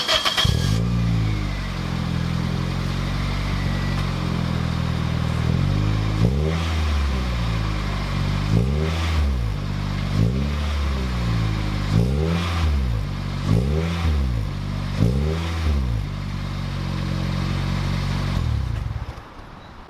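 A Toyota Corolla fitted with a TRD muffler idles with a deep exhaust burble, then gives a series of short, repeated throttle blips, each rev rising and falling sharply in quick rhythm, close and loud with no talking.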